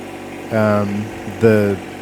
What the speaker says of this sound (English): So this little tiny tractor is wonderful